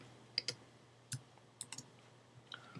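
Computer keyboard keystrokes during copying and pasting, a few faint, sparse clicks scattered irregularly in a quiet room.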